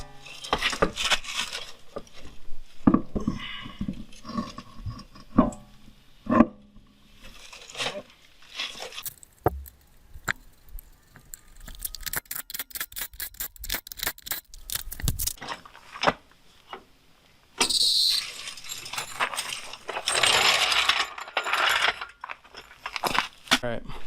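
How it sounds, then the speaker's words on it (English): A front wheel going back onto a 2004 Honda Odyssey during a rotor and pad job: scattered metallic clanks and rustling, then a burst of rapid, evenly spaced ratchet clicks as the lug nuts are tightened close by. "I'm going to put the wheel on."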